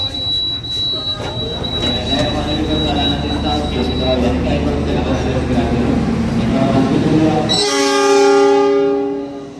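The KA Logawa passenger train pulls into Purwokerto station with a loud rumble and squealing wheels, then a long, close, sustained multi-tone horn blast near the end; a voice speaks over the early rolling.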